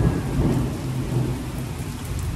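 Steady rain pours down with deep rumbles of thunder rolling through it during a storm, loud and continuous with no voices.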